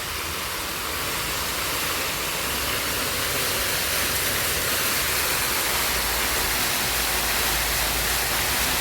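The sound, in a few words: loud park fountains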